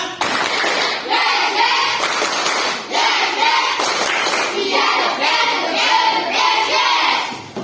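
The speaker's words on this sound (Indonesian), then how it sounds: "Mari untuk meningkatkan semangat kita tepuk semangat." Primary school pupils in a Year 5 Indonesian-language class doing tepuk semangat, a rhythmic group clap, loud and close, in repeated patterned bursts of many hands striking together, with voices chanting along.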